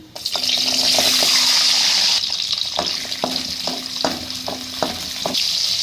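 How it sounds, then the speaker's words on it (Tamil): Small onions (shallots) dropped into hot oil for curry leaf chutney, a loud bright sizzle burst followed by continued frying hiss and a run of rhythmic spatula scrapes and taps against the pan, close up, no speech. "எண்ணெய் ஊற்றி எண்ணெய் காஞ்சிருச்சு. சின்ன வெங்காயம் சேர்த்துக்கிறேன்"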